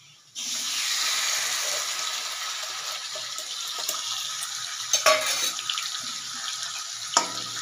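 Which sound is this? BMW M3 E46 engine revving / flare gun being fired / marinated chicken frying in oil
marinated chicken frying in oil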